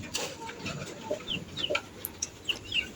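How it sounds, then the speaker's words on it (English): Chicken clucking in a backyard garden, a few short soft clucks and chirpy calls scattered over quiet outdoor background, fairly faint. "I'm going to feed it to my chicken before I spray it."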